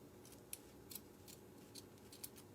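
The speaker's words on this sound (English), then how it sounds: "cut off that tail" Scissors snipping the tail off a pink ribbon bow for rustic Easter bunny decor, a handful of quiet, crisp metallic clicks spaced unevenly across a faint background hush.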